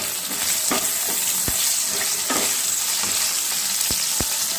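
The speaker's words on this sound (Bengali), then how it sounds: "ঢাকা দিয়ে আলুগুলোকে একটু ভালো করে ভাজা করে নিচ্ছি।" Potatoes fry in a pan for a fish curry, a steady crackling sizzle filling the background with several sharp scraping stirs of a utensil scattered throughout, close and fairly loud, with no talking.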